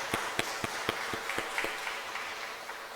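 Church congregation at an Easter Sunday service clapping to welcome newcomers, a sparse run of sharp hand claps over roughly two seconds that thins out and fades, with no talking.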